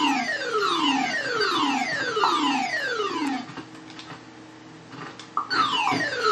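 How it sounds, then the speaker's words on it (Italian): A car alarm blares in Grand Theft Auto V, its rapid descending sweeps repeating steadily, then breaking into shorter irregular tones with a few sharp knocks. "se gli andate addosso con un'altra macchina oppure col personaggio, l'allarme suonerà"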